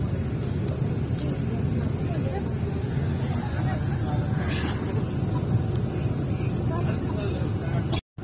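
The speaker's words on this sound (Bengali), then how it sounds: "দেখেন কি পরিমাণ জ্যাম" Road traffic stuck in a heavy jam during the Eid holiday rush, heard from inside a waiting vehicle as a steady low engine rumble with faint babble and occasional light knocks, ending in a sudden brief cut.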